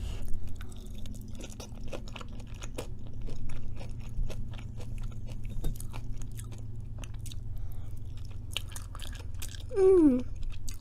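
Close chewing of berry cheesecake brownies and cajun fries, soft wet crunching and mouth sounds spread through the whole stretch, with a brief hum-like vocal sound near the end.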